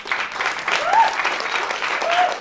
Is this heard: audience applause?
yes